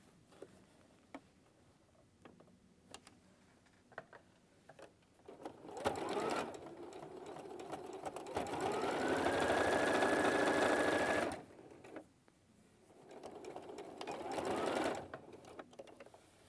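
A sewing machine stitches fabric on a hoop skirt in bursts of steady whirring, with a long run in the middle and a shorter one later, separated by quiet handling clicks and faint talk.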